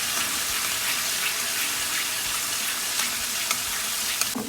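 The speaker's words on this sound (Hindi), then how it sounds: "थोड़ा पकाने जिंजर गार्लिक पेस्ट को, थोड़ा कच्चापन चला जाए" Ginger garlic paste frying in a pan on a home stove: a dense, continuous hiss and sizzle with small crackles and faint stirring scrapes, loud and close, no talking.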